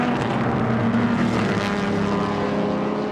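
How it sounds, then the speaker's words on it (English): A 40-year-old Ferrari racing car at the Goodwood Revival historic motorsport event gives a loud, continuous, throaty engine roar, steady and close throughout with no voices. "The throaty roar of a 40-year-old Ferrari engine."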